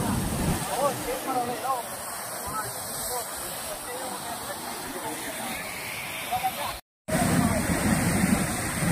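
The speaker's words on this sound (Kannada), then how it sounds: "ರೋಡ್ ಪಕ್ಕ ಈ ಥರ ನೀರು ಉಗ್ತಾ ಇದೆ" Water gushes up from the ground beside a road and flows off toward a stream, a steady broad rushing hiss under voices talking throughout, with one brief cut in the sound.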